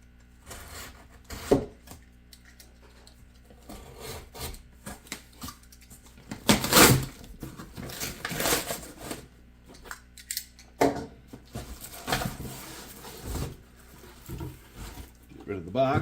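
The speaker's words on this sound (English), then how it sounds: "Let's give this box a little cut on the corner here." Scissors or a blade snip and crunch through the corner of a cardboard shipping box, a series of short irregular cuts and rustles at close range, with some talk between them.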